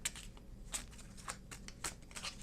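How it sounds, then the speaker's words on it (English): A deck of playing cards being shuffled for a tabletop card game, giving quiet, crisp riffling bursts in several short clusters over a low background hum, with no voices. "And so the deck will get shuffled."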